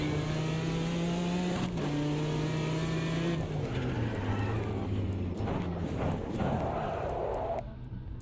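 A BMW race car engine in the Automobilista 2 sim, revving loud and continuous as the pitch climbs and drops through gear changes, with tire noise near the end and a voice faintly underneath.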